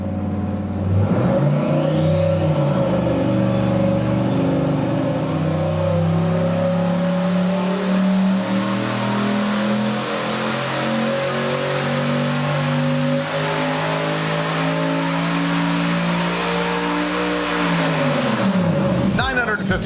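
A turbocharged engine on a dynamometer, with a changed wastegate spring and about 18 pounds of boost, roars loudly as its pitch climbs steadily for some seventeen seconds before it is cut and winds down.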